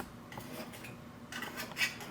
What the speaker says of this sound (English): Just take a knife and run it around the cake